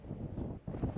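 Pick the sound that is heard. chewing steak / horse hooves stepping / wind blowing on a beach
wind blowing on a beach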